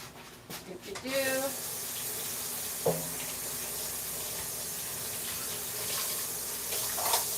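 A kitchen tap runs steadily as something is rinsed, a continuous close rush of water with a brief splash change near the start and a clink midway.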